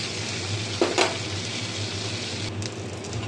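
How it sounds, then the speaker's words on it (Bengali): Whole garam masala spices temper in hot butter in a pan, a steady close sizzle with a couple of quick clinks near the start. "দেখুন শুধু গোটা গরম মশলা ফোড়ন দেব"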